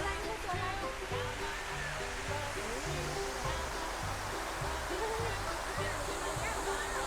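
Steady rushing water from a waterfall at a garden cafe in Nakhon Pathom, constant and fairly close, with people talking over it throughout.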